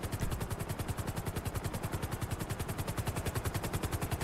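Rapid, steady rotor thumping from a helicopter in GTA 5, a loud, evenly pulsing chop that fills the whole stretch without letting up.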